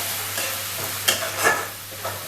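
Tomato paste added to masala frying in a pan, a close steady sizzle with a few stirring scrapes and soft splats, no voices.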